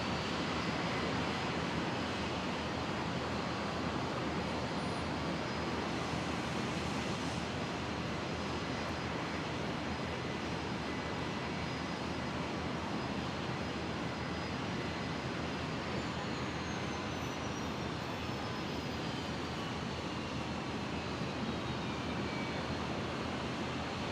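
A QantasLink Dash 8 Q400 turboprop at Brisbane Airport, a steady broadband engine roar that holds level and fairly loud from start to finish with no voices over it.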